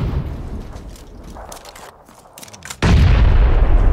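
Grenade blast and gunfire in the battle royale game PUBG: scattered shots over a steady din, then a sudden loud, sustained roar of explosion and fire in the last second.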